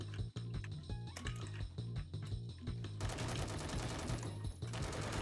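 Rapid .50 cal Glock pistol fire in the Phantom Forces video game starts as separated sharp shots over a pulsing music track, then becomes a dense, continuous volley with metallic clatter.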